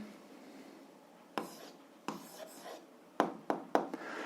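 Pen writing an answer on paper during an algebra lesson: quiet scratching strokes with several sharp taps near the end, close and soft against a low hiss.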